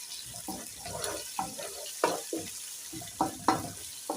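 Garlic and ginger cook in a sufuria for beef pilau, giving soft sizzling with scraping stirs and utensil knocks that come in irregular bursts, fairly quiet and close, with no talk.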